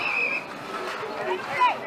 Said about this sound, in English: Whistle's gone.